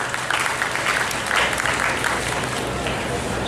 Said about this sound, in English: Please give them a huge round of applause and enthuse them.